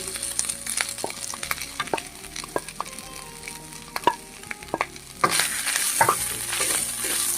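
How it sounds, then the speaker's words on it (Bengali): Pre-fried vegetables go into a hot pan for a Bengali sabu and mung dal dish and are stirred, with repeated sharp spatula clinks and scrapes over a low sizzle that swells louder near the end. "এরপরে আমি ওই ভেজে রাখা সবজিগুলো এর মধ্যে দিয়ে দেবো।"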